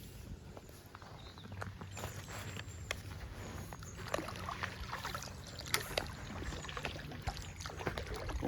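Kayak paddling on open water, with a steady wash of wind and water and soft rhythmic splashes and knocks from the paddle strokes continuing throughout.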